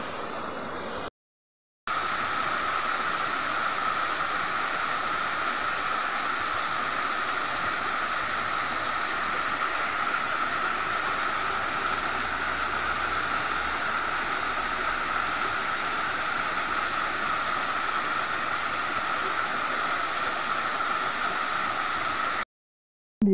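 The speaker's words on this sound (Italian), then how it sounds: "Eccomi qui al cospetto della cascata della Ninfa." The Ninfa waterfall in Veio Park near Rome pours in a steady, even broadband rush, loud and unbroken and close by, with no voices.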